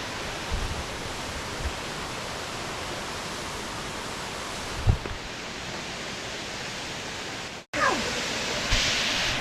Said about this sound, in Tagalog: this is the waterfall